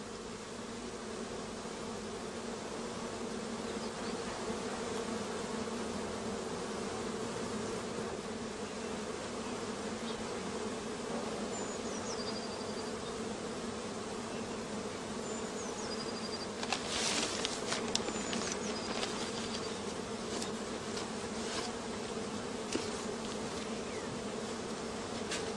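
A honey bee colony at an apiary near allotment gardens produces a steady, dense outdoor buzz that lasts throughout, with occasional louder individual bees passing close by.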